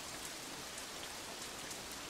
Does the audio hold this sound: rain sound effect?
yes